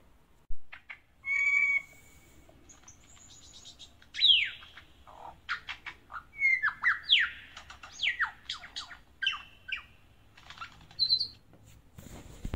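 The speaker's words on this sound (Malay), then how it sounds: "sungguh merdu ya bunyi kicauan burung cendrawasi ini ya" Varied bird-of-paradise calls ring out in bursts: clear whistles, sharp rising notes and harsh clicky phrases, spaced irregularly over quiet background.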